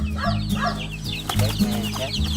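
Chickens cluck repeatedly in short broken calls, close and fairly loud, over a low steady background hum.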